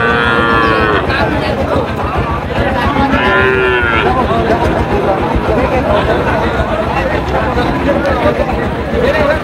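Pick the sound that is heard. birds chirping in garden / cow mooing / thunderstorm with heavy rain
cow mooing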